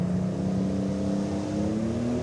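Mitas All or Nothing, a pulling tractor driven at the 2015 European Tractor Pulling Championship in Brande, Denmark, roars loudly and steadily with a deep, rising engine drone and no break.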